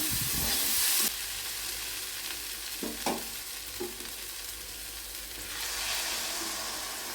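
Banana flower sizzles and fries in a pan, a steady broadband hiss with a few scraping stirs, louder at the start, no voices.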